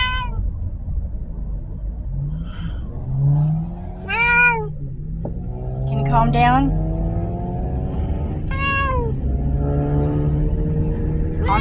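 Several cats meow repeatedly inside a moving car on a road trip, with long, rising and falling wails close to the microphone over steady engine rumble and road noise, while a person speaks briefly.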